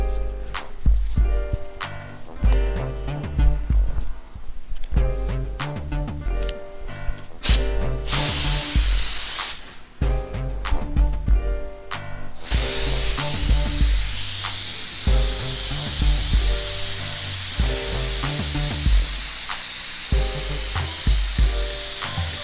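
A spray gun lays a primer coat on a car in hot weather, an almost constant close hiss of atomized spray with short breaks and clicks of the trigger between passes, over a steady background whine.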